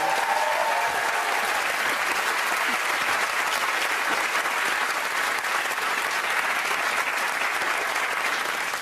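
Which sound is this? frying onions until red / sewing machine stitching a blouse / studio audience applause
studio audience applause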